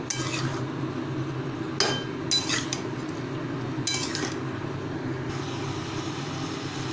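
A spoon scraping and clinking against a pan while a paneer and spice mixture is stirred, a few distinct metallic scrapes over a low background hum.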